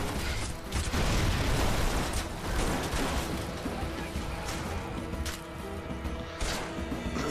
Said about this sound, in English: I can plant six of these as well, so it makes some pretty good explosions.